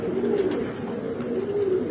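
High-flyer pigeons coo softly and continuously nearby, several birds overlapping in a low murmuring drone.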